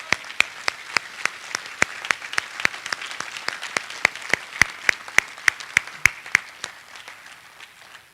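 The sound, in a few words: round of applause from the audience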